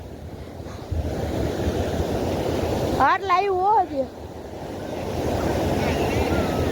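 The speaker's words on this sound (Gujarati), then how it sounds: "આ મોજા બહુ મોટા આવે હો ભાઈ." Large ocean waves break on the shore in a continuous, close roar mixed with wind buffeting, while someone speaks briefly in the middle.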